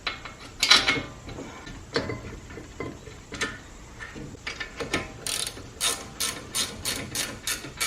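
Ratchet wrench with a 17 mm socket tightening the rear brake caliper bracket bolts on a Lexus GS350 F Sport, a series of close, sharp clicking bursts that speed into a steady run of regular clicks near the end, with no talking.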